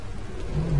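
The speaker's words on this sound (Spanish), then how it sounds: "Mira cómo le cae la lluvia por el rostro." Rain falling in the horror video game The Evil Within, a steady wash of dense patter with a low rumble beneath, continuous and moderately loud for under a second.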